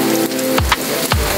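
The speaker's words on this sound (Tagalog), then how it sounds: "Okay, lumalakas ang ulan." Heavy rain pours steadily over a mountain work site, a dense continuous hiss close by, with two dull thumps breaking through it and no voices.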